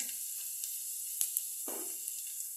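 Whole cardamom, broken open, fries with other whole spices in hot oil, giving a faint, steady sizzle with a few soft clicks and one brief low rustle near the end.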